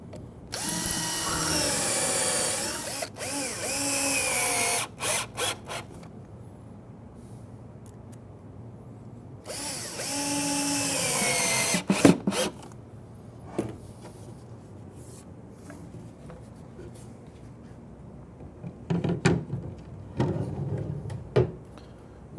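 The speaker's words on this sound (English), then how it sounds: "Now we're going to pre-drill for screws in both corners" Power drill pre-drilling screw holes into the corners of a wooden face frame cabinet, with two sustained whirring bursts and several short trigger pulls between quieter handling noises, close and loud.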